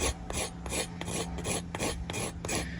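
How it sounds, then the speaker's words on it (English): The spine of a knife blade scrapes steadily across soft wood in repeated rasping strokes, close and loud, with no voices over it. "See if we can get some scrapings from the back of the blade here."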